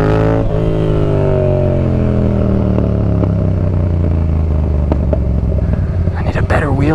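Honda CRF 250L motorcycle engine droning loudly and steadily up close during a wheelie attempt, its pitch sliding slowly lower and then rising unevenly near the end, with a voice over it.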